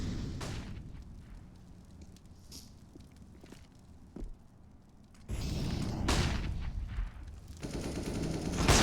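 Gunfire from the Counter-Strike video game on the Vertigo map during a professional esports match, with a series of sharp sniper rifle shots among other bursts. The shots are loud and close, and a louder stretch of firing fills the second half.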